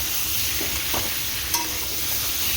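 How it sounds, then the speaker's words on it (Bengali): Vegetable chorchori fries in a pan with a constant bright sizzle, broken by occasional scrapes and clicks of a spatula stirring the vegetables, with no talking. "আর এখানে হচ্ছে চচ্চড়িটা ভালো করে ভাজা।"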